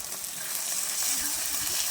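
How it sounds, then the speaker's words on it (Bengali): Chili paste frying in a pan gives a dense, continuous close sizzle and hiss with faint low scraping underneath, heard alone without talk. "এবার আমি এতে লঙ্কা বাটাটা দিয়ে দেবো"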